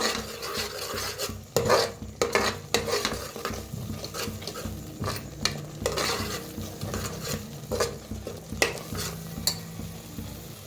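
Chicken masala roasting in a pan, stirred with a spoon, gives a steady sizzle with repeated scraping strokes, close and moderately loud, with no voices.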